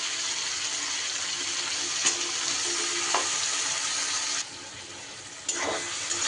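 Pointed gourd curry with green chilli sizzling and frying in a pan as it is stirred, a steady hiss running throughout with a few brief scraping clatters from the spoon; no one speaks.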